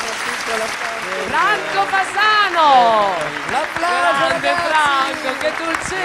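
An audience applauds a singer on a televised music show, a steady wash of clapping that lasts the whole clip while a host talks over it.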